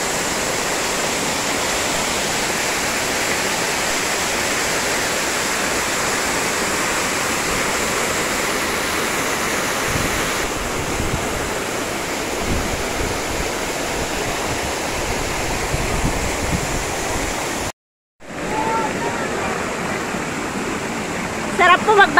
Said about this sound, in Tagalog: Pero ang ganda po ng falls dito.